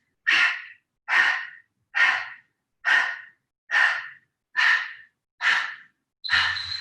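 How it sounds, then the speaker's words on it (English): Eight loud, forceful breathy exhales come in a steady rhythm, about one per second, close to the listener during a yoga HIIT workout. "Keep the breath moving in the body. So loud, noisy exhales."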